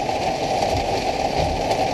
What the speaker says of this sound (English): it's raining here. Did you hear that?